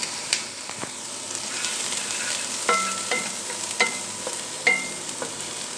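Chicken and mushrooms sizzle steadily in a frying pan, with intermittent clinks and scrapes of a spoon stirring through the food at close range.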